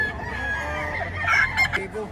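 A rooster at a chicken market in Batangas, Philippines, crows close by, one loud, strained call rising and breaking at the end, with faint background murmur.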